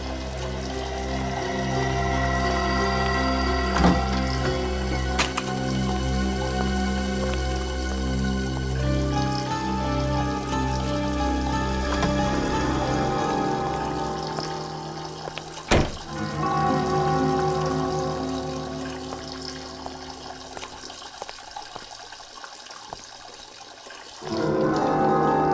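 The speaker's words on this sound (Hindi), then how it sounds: "ये पानी की आवाज तो बेसमेंट में से आ रही है।" Water running in a basement, a steady pouring and splashing flow heard from some distance under a tense musical score, with a few sharp hits; the water fades near the end.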